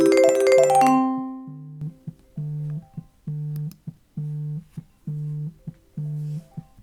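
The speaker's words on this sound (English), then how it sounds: "we now have the custom ringtone" A custom ringtone plays for an incoming iOS CallKit call, a short chime followed by a steady repeating two-tone electronic pattern in even pulses, clear and alone.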